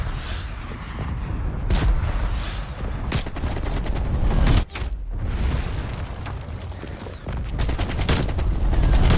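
AK-47 gunfire in a video game, rapid loud bursts of shots and booms packed together, with brief pauses between volleys.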